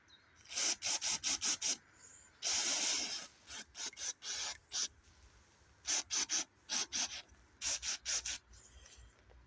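Contact cleaner sprayed onto the electrical plug of a Simplicity ride-on lawn mower, heard as a run of short, close hissing bursts, some quick and some held longer, with brief pauses between them.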